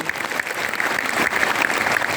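An audience at a business event gives loud, steady applause that fills the room and holds evenly for its whole length.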